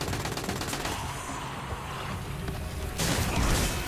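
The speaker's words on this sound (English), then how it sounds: "I could just launch the super grenades" Super grenades launched by Wolf in the video game Destiny Rising, a dense, loud barrage of rapid explosive bursts and mechanical clatter that surges again near the end.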